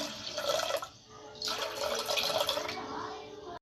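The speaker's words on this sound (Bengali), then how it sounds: "এতে একটু জল ঢেলে দেব।" Water poured into chana dal in a pressure cooker, a splashing, trickling stream that stops briefly and then resumes for a few seconds, close and moderately loud.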